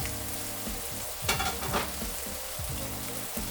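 Skin crisps in a hot pan at medium-high heat, a close sizzle and crackle with a couple of louder bursts as it is moved about.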